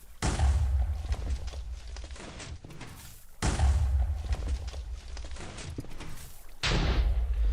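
Minecraft TNT explosions go off inside an obsidian-lined blast chamber of an automatic tree farm: three heavy booms spaced a few seconds apart, each with a sharp attack and a long rumbling tail, loud and close.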